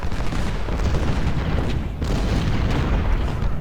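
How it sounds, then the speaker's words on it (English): 10-pounder cannons fire in a Civil War strategy game battle, a dense, loud rumble of booming artillery rolling on without pause, one shot layered over the next. "10-pounders, please shoot at Stuart."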